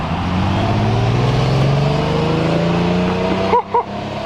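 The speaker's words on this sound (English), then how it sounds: "Sorry about that rude interruption with that Bugatti EB110" A yellow Bugatti EB110 supercar passes close by. A loud, steady engine roar with a rising pitch sweeps past and fills the scene, and a couple of short bark-like sounds come at the end.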